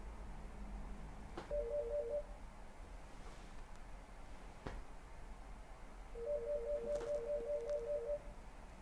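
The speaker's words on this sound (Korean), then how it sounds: "전화가 오네." A telephone rings in two bursts of rapid electronic trilling tones, one short and one longer, fairly faint over a quiet room with occasional small knocks.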